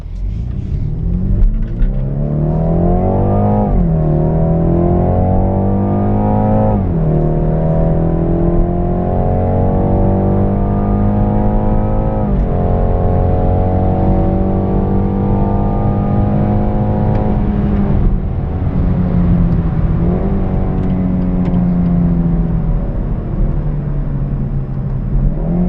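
A BMW 430i Gran Coupe pulls away from a red light with a loud, steady engine drone heard from inside, rising smoothly through several gear changes with brief dips between each long climb.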